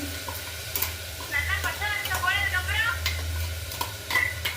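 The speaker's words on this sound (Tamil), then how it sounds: "ஆட் பண்ணிட்டு நல்லா பச்சை வாசனை போற வரைக்கும் வதக்கணும்" Ginger garlic paste sautéing in a hot pan, with a steady close sizzle and repeated scraping of a spoon or spatula stirring it, plus occasional light clinks of utensil against pan.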